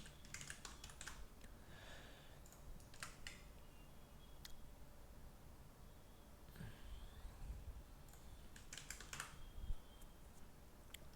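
Continuous typing on a computer keyboard while a motion design tool is searched for, a quiet, steady patter of key clicks with a few sharper bursts, heard alone without speech.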